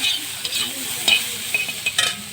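Spices with red chilli powder fry in a pan, with a steady close sizzle broken by several light scraping stirs.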